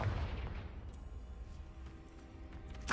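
A single explosive spell blast in Hogwarts Legacy, a low booming burst that rumbles and fades over a few seconds, fairly quiet, followed by a sharp crack at the end.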